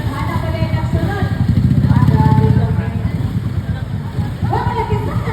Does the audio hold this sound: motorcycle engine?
yes